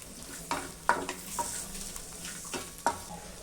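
Onion fries in a pan while being stirred, a steady sizzle broken by several distinct scraping and clattering strokes of the utensil at irregular intervals, close up and without speech.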